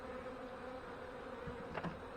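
Honey bees buzzing steadily around an opened hive during a fall inspection, a faint, close, continuous hum with a few brief louder passes near the end and no talking.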